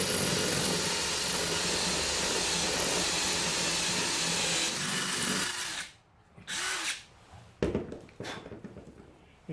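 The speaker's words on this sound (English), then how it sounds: "Drill the hole." A power drill boring a hole while building a DIY drafting duck, a loud, steady whine for about six seconds that then stops, followed by a few short bursts and some handling noise.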